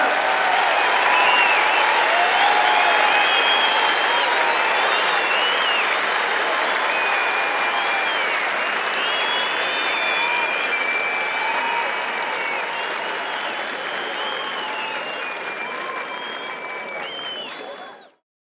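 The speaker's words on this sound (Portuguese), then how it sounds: "uma calorosa salva de palmas" Warm, sustained applause from family members at a graduation ceremony for new soldiers, a dense steady wash of many hands clapping for nearly twenty seconds before cutting off, with faint crowd voices beneath.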